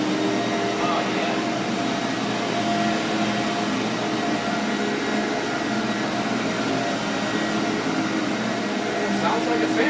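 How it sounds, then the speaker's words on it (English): An Iona S.C. Johnson Vectron vacuum cleaner with an Ametek motor runs nearby, giving off a loud, steady, even whir that holds unchanged from start to finish. "Kind of that signature kind of whirring and Amatec motor sound"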